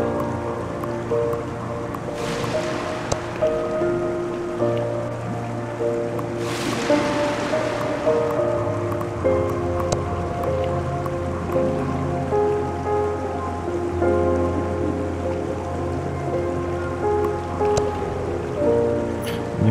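A waterfall in the video game Old Man's Journey: a steady, moderately loud rush of falling water under soft, sustained musical tones, swelling into two brief louder splashy surges early on, with no talking.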